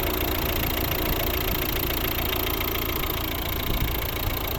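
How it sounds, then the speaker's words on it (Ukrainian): A 2011 Volvo V60 1.6 diesel engine idles steadily with a rough, knocking rumble, close by and unbroken for the whole stretch. "Ось робота двигуна."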